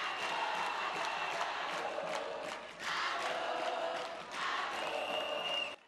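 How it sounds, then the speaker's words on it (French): A crowd at an International Women's Day event applauding and cheering loudly, with bursts of clapping and shouts swelling in waves, briefly dipping near the middle before rising again. "Je vous demande de l'applaudir très fort."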